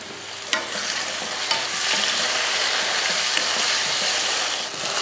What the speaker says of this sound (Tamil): வெண்டைக்காய் நல்லா சுருண்டு நல்லா வதங்கிருச்சு அந்த வலுவலுப்பு ஒன்று கூட இல்லை பாருங்கள்